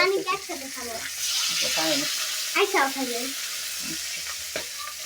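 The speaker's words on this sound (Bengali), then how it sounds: "মাছটা ভালো করে ভেজে নিতেছি।" A rohu fish head fries in oil with a steady, loud sizzle and occasional stirring clatter. A voice talks over it near the start and again in the middle.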